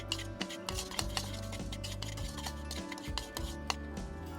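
Dry seasonings, including garlic powder and dried thyme, being stirred together in a bowl, a quiet run of gritty scraping and light tapping strokes at an even pace, close up with no voices.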